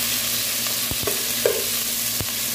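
Onion, tomato and garlic sautéing in a pan for a Filipino eggplant and sardine dish, a steady close sizzle with a few sharp stirring scrapes and clinks over it, no voices.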